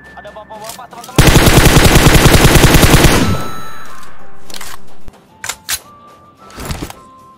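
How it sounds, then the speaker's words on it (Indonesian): An MP5K submachine gun fires in PUBG Mobile as one loud, rapid, continuous burst lasting about two seconds, followed by a steady tone and a few scattered clicks and short bursts of game noise. "Kece juga nih senjata nih MP5K"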